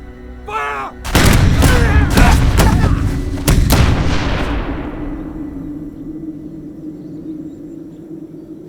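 A volley of guns fires on command in a film drama, a burst of heavy overlapping booms followed by several more loud shots, then a long fading reverberant tail; a brief shouted voice comes just before.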